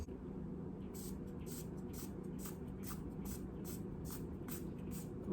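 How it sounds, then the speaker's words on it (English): Face mist sprayed in a series of about ten quick, evenly spaced hissing spritzes, each short and airy, over a steady low background hum. "I'm gonna spritz my face"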